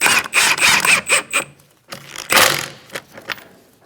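A lug nut on a 2004-2009 Mazda 3 rear wheel is spun on and tightened with a ratcheting tool, giving quick bursts of close, rapid clicking with short pauses between them.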